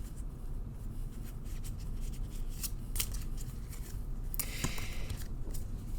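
Close, dry papery riffling and sliding of cards being shuffled, in irregular bursts over a low background rumble.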